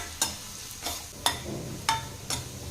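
Onions and curry leaves sauté in a pan, a steady close sizzle broken by five spaced spatula scrapes against the pan, with no talking.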